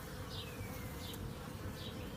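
Honeybees buzzing at an active hive, a dense continuous drone with individual bees whining past up close, steady and loud throughout.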